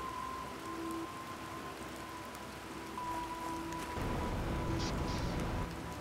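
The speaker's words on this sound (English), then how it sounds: "Oh, more rain." Steady rain in the video game The Planet Crafter patters on a surface, a continuous hiss that grows slightly heavier partway through, with no talking.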